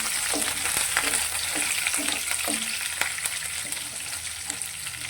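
Chopped green chillies and curry leaves hit hot oil with crackling mustard seeds, giving a loud steady sizzle broken by spoon scrapes against the pan at a regular stirring pace.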